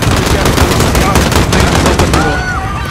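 Rapid automatic gunfire in Call of Duty: Modern Warfare (2019) during a Piccadilly Circus campaign mission, loud dense bursts of shots close by, with a voice speaking underneath.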